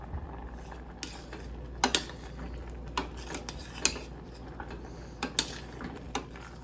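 A spoon scrapes and clinks against a pot of boiling oats in irregular strokes, quiet and close, with a faint steady hum underneath.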